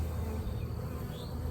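Steady, dense buzzing of honey bees swarming close by during installation of a nuc hive, a continuous low drone with no voices.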